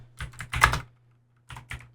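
Short bursts of typing on a computer keyboard, a quick cluster of close, crisp key clicks, a pause of about half a second, then a few more taps.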